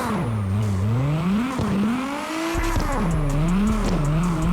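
A Nissan R32 tuned to 1100 bhp drifts through corners in CarX Drift Racing, its engine note rising and falling in loud continuous sweeps and its tires squealing through the turns, close and uninterrupted.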